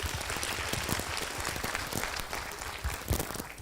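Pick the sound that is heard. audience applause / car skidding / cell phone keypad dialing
audience applause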